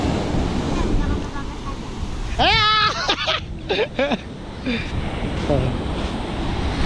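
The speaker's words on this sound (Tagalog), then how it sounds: "Ang mga alon." Ocean waves beside a boat roar as a loud, constant wash of surf mixed with wind buffeting the microphone, with a few excited shouts and exclamations breaking through in the middle.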